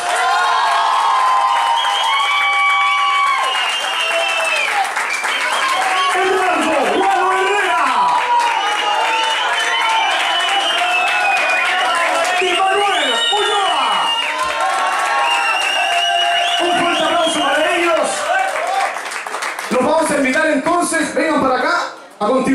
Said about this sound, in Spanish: Un gran aplauso entonces para los señores